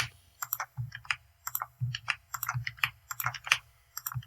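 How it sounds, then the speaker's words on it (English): Computer keyboard keys tapped while editing audio samples, using the Control-E shortcut: a close, crisp run of quick clicks in irregular bursts, with no talking. "I'm creating cuts in these by clicking Control-E."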